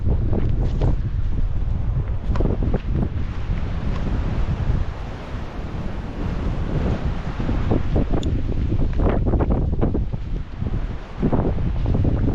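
Strong mountain wind roars across a snowy hiking path in the Austrian Alps, battering the microphone with loud, continuous low rumbling gusts and no break.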